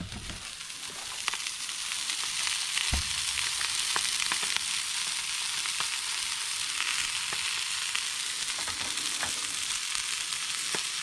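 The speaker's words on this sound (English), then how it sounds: "come listen to this sizzle." Branzino fillets sizzle while frying in a pan, a steady loud crackling hiss with scattered pops and spits that continues unbroken throughout.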